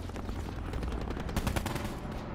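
Shotgun fire in Call of Duty: Black Ops 4, a rapid run of close, loud gunshots layered over dense battle noise with no pauses.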